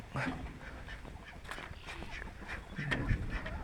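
Several ducks quack close by in short, raspy bursts, layered over outdoor background noise.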